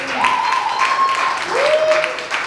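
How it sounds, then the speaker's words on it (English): A tech-event audience applauds loudly and steadily at a Black tech panel, with two long, gliding whistle-like tones rising above the clapping. "And then Ms. Deberry, give another round of applause, Ms. Deberry."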